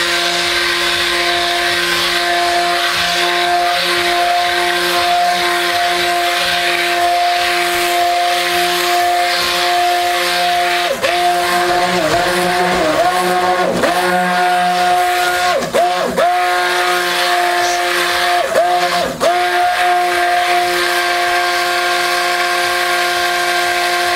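A stick blender whirs steadily through soap batter for Aleppo slab soap, a loud continuous motor drone with several brief dips in pitch as the blade bogs down or shifts in the thick mixture.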